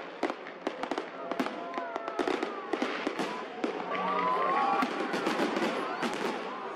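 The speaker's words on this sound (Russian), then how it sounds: "салют в Парке Победы" Fireworks crackle and pop for a Victory Day salute in Victory Park in Kalyazin, heard as rapid bursts at a moderate distance over a faint crowd murmur.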